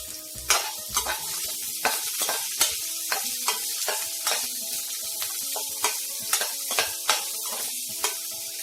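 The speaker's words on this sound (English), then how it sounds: "Then add the small onion. After 2 minutes you can add the small onions." Small onions and curry leaves frying in a pan for mutton gravy, a steady close sizzle broken by repeated sharp scraping stirs at a regular rhythm, with no voices.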